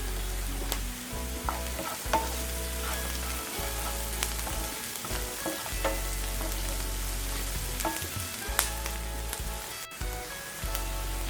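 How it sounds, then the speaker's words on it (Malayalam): Fennel seeds sizzle in hot oil in a pan while palak paneer is being cooked, giving a steady, close frying hiss broken by occasional clinks and stirring scrapes. "നെക്സ്റ്റ് ഇതിലോട്ട് വലിയ ജീരകം 1 ടീസ്പൂൺ ഇട്ട് കൊടുക്കാം."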